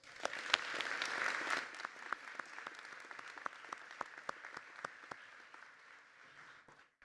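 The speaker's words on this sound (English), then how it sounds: "let's give them a round of applause" Audience applause at a college commencement ceremony, a dense wash of clapping that swells early, then thins into scattered individual claps before fading out near the end.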